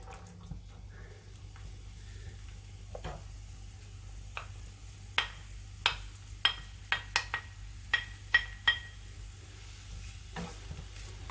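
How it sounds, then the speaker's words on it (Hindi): Finely sliced onions frying in a cup of oil in a frying pan for mutton korma make a steady hiss, joined midway by a quick run of sharp stirring clicks and scrapes, with no speech. "अब मैं इसमें ये बारीक स्लाइस किए हुए प्याज डाल दूँगी।"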